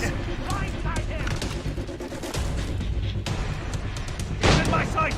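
Naval gunfire and cannon booms during a ship chase in Assassin's Creed Rogue, repeated heavy blasts and crackling shots mixed with shouting crew voices, with a louder burst near the end.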